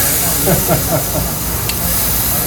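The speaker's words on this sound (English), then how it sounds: "Now we're searing. Yeah. We're doing a reverse searing." Meat reverse searing on a barbecue grill aboard a boat, giving a steady loud hiss of sizzling across the whole stretch, with brief faint voices in the background.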